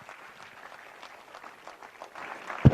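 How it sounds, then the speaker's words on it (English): Applause fills a hall as an audience greets a speaker at a ceremony in Chennai honoring the Chennai Super Kings cricket team. The clapping sounds fairly faint and distant, and a sharp thump lands right at the end. "Would you please greet him with a strong round of applause"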